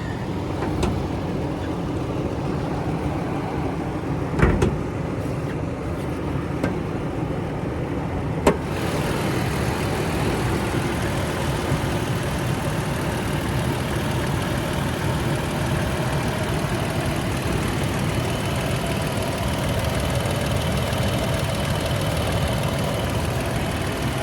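A small motor idles quietly in a steady, even drone from start to finish, with two brief clicks early on and no one speaking.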